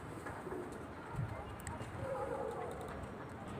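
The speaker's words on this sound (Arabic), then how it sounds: "انا بقى بهدي الحمامتين وهطلب حط" Pigeons coo faintly in the background while someone talks over them; the low rolling calls are quiet and partly masked.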